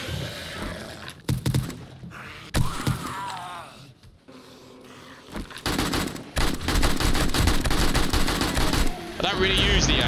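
AK rifle gunfire in the survival game 7 Days to Die during a horde night. Loud, close bursts of shots are followed by a long sustained stretch of rapid automatic fire, with thuds and impacts in between.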